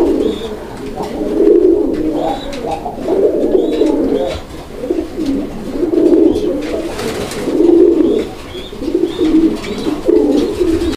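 Fancy pigeons at a Bangladeshi seller's loft coo in repeated low, throaty rolls throughout, close and steady, with faint higher chirps scattered above.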